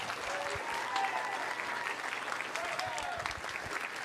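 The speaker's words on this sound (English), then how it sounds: "Let's have a round of applause for our seniors" Audience applause at a high school band concert honoring the graduating seniors, a steady wash of clapping that holds evenly for about four seconds, with a few faint voices and cheers mixed into the crowd.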